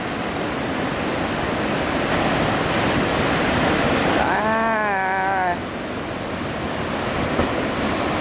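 Ocean surf breaks steadily along the Oregon coast in a continuous, loud wash mixed with wind noise. A brief whistle-like tone cuts through partway.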